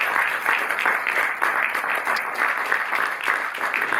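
Audience in a cinema at the Cinémathèque in Paris applauding, a dense steady clatter of many hands clapping throughout, fairly close and without talk.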